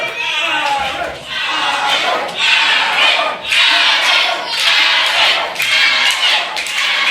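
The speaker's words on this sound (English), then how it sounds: "Listen, crowd can cheer all they want." A wrestling crowd at a live show roars and cheers in repeated surging waves, loud and close, with shouting voices blended into the din.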